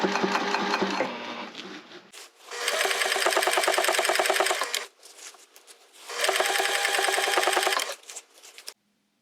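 A sewing machine top stitching a tote bag runs in three bursts of rapid, even mechanical chatter, with short pauses between runs and a quiet stop at the end.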